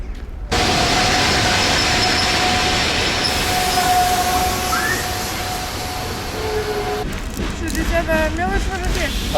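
A long-distance Novokuznetsk to St. Petersburg passenger train arrives at a platform with a loud, steady rolling rumble and a sustained metallic squeal, while people talk nearby and brakes squeal toward the end.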